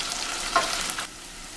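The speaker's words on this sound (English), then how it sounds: "So I will fry it very well to make the sour taste dry off. So you keep on stirring so that it will not burn." A tomato and pepper base for Nigerian party jollof rice fries in a pot, with a brief close sizzle and a spoon stroke before the sound drops quieter, no talk.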